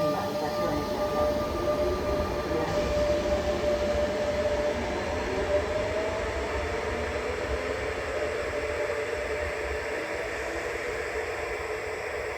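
A Rodalia València commuter train heard as a steady, continuous rumble and hiss at a station, with a faint high tone running through it and no break in the noise.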